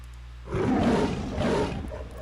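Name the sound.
lion avatar roaring in Second Life game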